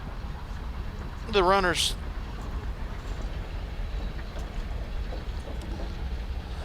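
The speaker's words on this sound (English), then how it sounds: "Forgive the freight train noise in the background." A freight train loaded with coal passes beside a high school track meet in Minneapolis, a steady broad rumble and rattle running throughout while a person briefly speaks over it.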